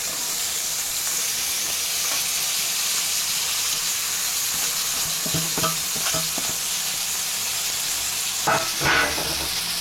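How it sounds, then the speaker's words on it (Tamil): Chopped banana flower (vazhaipoo) sautés in a pan with a steady, close sizzle and hiss. Occasional stirring scrapes stand out, especially toward the end. "வாழைப்பூ போட்டதும் நல்லா வதக்கணும்"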